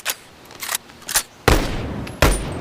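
M1 Garand rifle fired in the VR game Bonelab: five loud, sharp shots spaced unevenly, the last two heavier with longer ringing tails.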